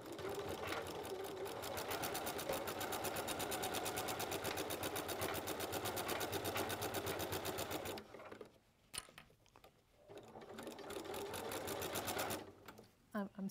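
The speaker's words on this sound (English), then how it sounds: "I'm sewing that off the end" Sewing machine stitching off the end of fabric while making a quilt or apron, a steady fast rapid-fire whir running continuously for about eight seconds, then stopping and restarting in shorter bursts, with talk faintly underneath.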